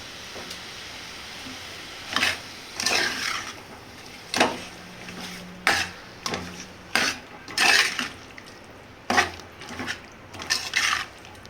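Chicken gizzard fry being stirred with salt in a pan: about a dozen scraping, clattering strokes come at irregular intervals over a low background hiss, close and moderately loud, with no talk.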